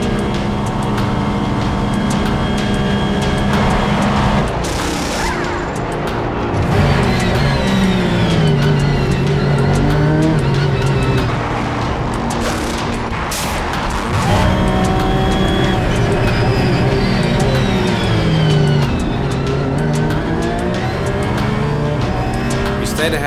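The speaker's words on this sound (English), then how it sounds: "And in she comes to hit the speed limiter down to 60 kilometers per hour in the pit stop." A Ferrari-era GT endurance race car at a Le Mans series round in the Ardennes enters the pit lane and drops to its 60 km/h speed limiter, engine note stepping and buzzing steadily, loud and close, with a voice talking over it.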